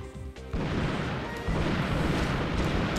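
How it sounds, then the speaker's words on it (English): Loud, continuous explosion blasts with crashing debris in the video game Ratchet & Clank, starting after a brief lead-in and rolling on densely to the end. "Woohoo! Explosions!"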